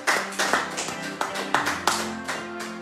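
A church congregation clapping in praise, a series of sharp, fairly close rhythmic claps at an irregular pace over a background of voices and music.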